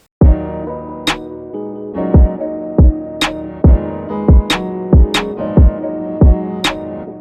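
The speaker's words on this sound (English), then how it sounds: "Then when you hear everything all play together, the whole beat should sound like this." A full UK drill beat plays alone, with booming sliding 808 bass kicks landing in a steady rhythm under sustained melodic chords and sharp crisp percussion hits, loud and close.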